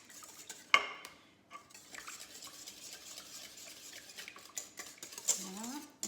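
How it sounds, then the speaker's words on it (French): Milk is stirred into batter in a bowl, a utensil scraping and clinking softly against the sides in a quiet kitchen, with one sharper knock early on and faint voices in the background. "Je mélange, mais je ne fouette pas trop."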